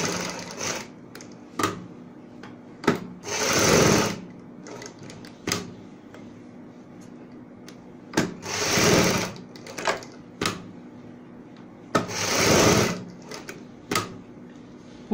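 A sewing machine stitches a garment neckline reinforced with buckram in several short bursts, each a loud close whir of rapid needle strokes, separated by quieter pauses with faint handling clicks.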